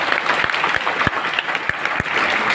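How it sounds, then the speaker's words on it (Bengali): Audience at a business meeting in a party centre in Ashulia, Savar, clapping together in a steady burst, with some sharper individual claps standing out against the crowd. "কি একটা হাততালি দিতে পারবে?"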